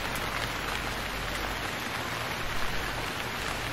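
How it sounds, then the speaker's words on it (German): Steady rain falls in the survival game Stranded Deep, a constant dense hiss of drops on surfaces, loud and unbroken with no talking. "Ich behaupte, das regnet hier durch."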